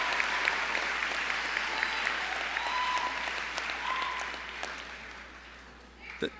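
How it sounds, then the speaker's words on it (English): An audience at a high school graduation ceremony applauds parents and families, a dense, even roar of clapping that fades gradually, with faint voices and a brief bump of noise at the end. "Let's give a big round of applause for our parents and families."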